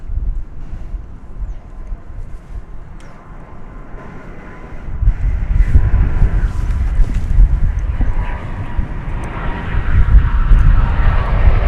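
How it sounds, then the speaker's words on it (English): A Lufthansa airliner arrives at DFW Airport on a windy afternoon, its engine roar building as it approaches and holding a steady, broad rumble amid gusty wind noise on the microphone. "Well, hooray for us seeing the Lufthansa flight coming in this afternoon."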